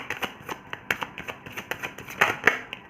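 Tarot cards being shuffled and drawn by hand, a quick irregular run of crisp slaps and riffles close up, with a few sharper snaps near the end and no talking.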